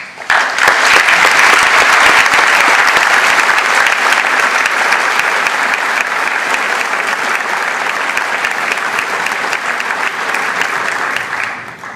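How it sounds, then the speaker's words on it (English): An audience at a graduation ceremony gives the teachers and staff of Marquette a loud, sustained round of applause, with dense clapping that holds steady for the whole stretch before tapering at the very end. "give them a round of applause"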